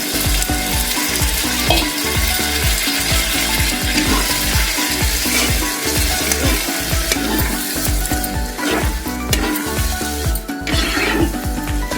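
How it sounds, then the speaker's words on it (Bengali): Boiled lentils, cooked with salt and a little turmeric, go into hot spices in a pan for dhaba-style egg tadka, sizzling loudly and close with a rhythmic scrape of stirring throughout. "তো আমি এবার ডালটা দিয়ে দিচ্ছি।"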